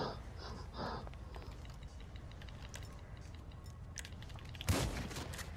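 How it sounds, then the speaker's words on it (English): Gunfire in GTA Online rattles faintly in quick bursts amid keyboard-like clicking, with one sharper, louder blast near the end. "Who's shooting me in the fucking back over here"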